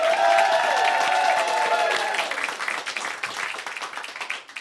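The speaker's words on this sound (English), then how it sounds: "So give them a warm round of applause." An audience in a radio studio session applauds for a band, dense clapping thinning into scattered claps, with a faint voice over the start.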